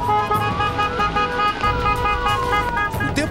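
Car horns from app drivers in a funeral procession, several honks sounding over continuous road traffic and engine noise, loud and close.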